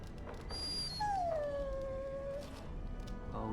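A dog in the video game Dragon Age whimpers with one long, high, wavering whine that slowly falls in pitch, preceded by a few short faint yips, over a low steady game ambience.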